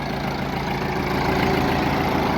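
A turbocharged YuMZ tractor engine fitted with a rotary mower runs steadily up close, a loud, continuous diesel throb with an even low pulsing and no voices.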